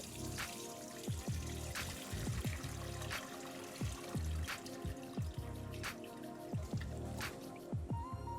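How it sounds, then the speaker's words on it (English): Water trickling and dripping over chopped mushrooms sitting in a strainer, a close, steady stream broken by irregular drips and wet splashes. "Pour water on it and let it dry a little."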